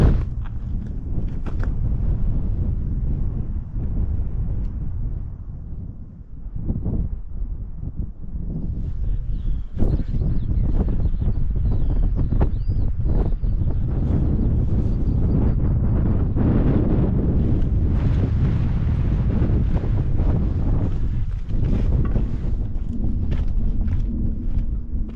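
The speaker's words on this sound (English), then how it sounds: "Wind's really picked up, it's got cold" Strong wind batters the microphone on a Peak District hilltop near Shining Tor, a loud, continuous roaring buffet that surges and eases slightly over the whole stretch, with no voices.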